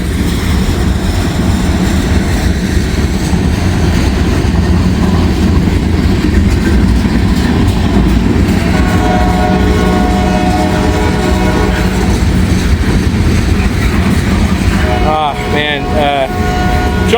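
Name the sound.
train M510 passing by in the rain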